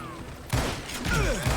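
Rapid gunfire from the Western shooter video game Call of Juarez Gunslinger, a dense burst of shots kicking in halfway through and continuing loud and close over a busy game soundscape.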